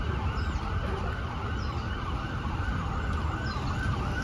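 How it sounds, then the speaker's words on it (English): An ambulance siren wails on a busy street of Francisco Madero beside construction work, a faint rising and falling tone somewhat distant under a heavy bed of traffic and street rumble. "That's probably an ambulance you're hearing coming"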